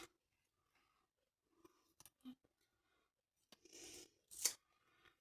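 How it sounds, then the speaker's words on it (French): Scissors snipping paper while making a handmade card, a few quiet, close cuts scattered among silence, with one sharper snip near the end. "je vais découper un peu là"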